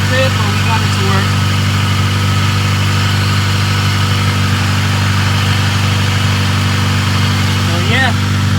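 A 1996-2000 Honda Civic Si B16 engine idles steadily through a Spec-D exhaust with a high-flow catalytic converter, a deep, droning hum, while a person talks over it and a brief higher rev or whine rises near the end.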